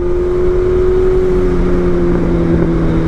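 A BMW M1000R Competition motorcycle fitted with a titanium header and mid pipe, ridden in race mode, holds a loud, steady exhaust drone with a clear engine tone throughout, under constant rushing wind noise.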